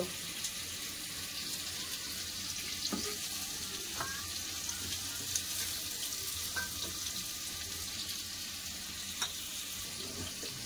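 Continuous loud sizzle of pointed gourd and cauliflower frying in a pan, with occasional clinks of stirring and a faint watery hiss underneath.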